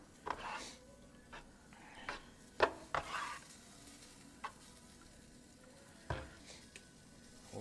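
Crawfish tails stirred in a pot for Cajun crawfish étouffée, faint low simmer broken by several sharp spoon scrapes and clacks against the pot, quiet and close, no voices.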